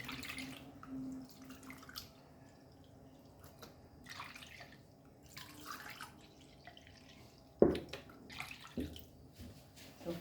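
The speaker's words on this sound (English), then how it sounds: "Then we add this 4 cups of milk." Four cups of milk poured into a pan for Goan milk cream, a quiet trickling, splashing flow of liquid with one sharp metallic clank partway through, close by and with no talking.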